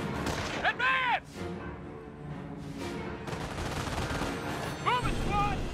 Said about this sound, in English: we're taking automatic fire